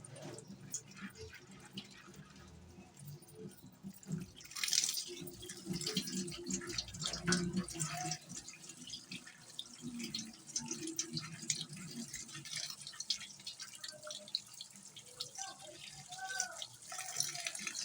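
Water splashes and trickles steadily as split chickpea lentils are rinsed and swirled by hand, with occasional drips and clinks, fairly quiet throughout.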